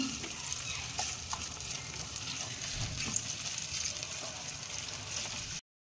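Onion, garlic and ginger paste frying in oil for a Bengali jackfruit curry, a continuous soft sizzle with occasional stirring sounds, ending in a sudden cut to silence.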